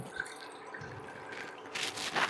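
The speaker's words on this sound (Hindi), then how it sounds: "एक बर्तन लिया है हमने, फ्लेम को ऑन किया है और यहाँ पे लेंगे हम 1 गिलास पानी।" A glass of water is poured into a metal pot on a lit stove, giving soft splashing and dripping that swells into a stronger pour near the end, close by and free of talk.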